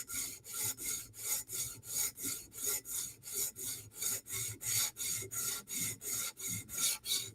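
Steady rhythmic rasping strokes as a Spyderco knife edge is worked along a sharpening stone, about three strokes a second, close and even, with no talking.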